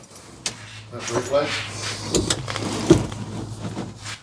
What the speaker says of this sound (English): Probably turn the key on.